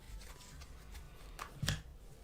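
Quiet riffling and flicking of tarot cards being shuffled, a series of soft papery snaps ending in a slightly louder tap.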